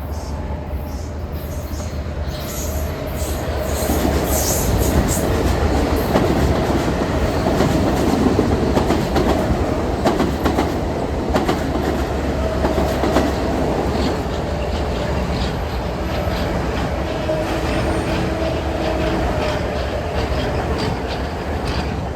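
A train bound for New Haven rumbles past on the track, wheels clattering rhythmically with occasional high squeals, loud and sustained throughout.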